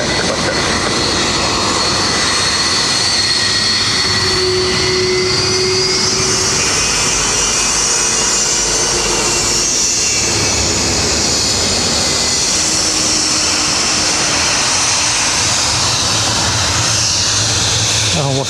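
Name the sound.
jet aircraft at Dublin airport, likely a Boeing 747 freighter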